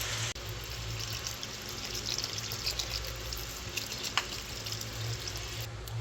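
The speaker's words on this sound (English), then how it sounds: "So I have added my water" Water poured into a pot of seaweed soup with ginger paste, making a steady, fairly loud rush of splashing and running liquid for several seconds, with no talking.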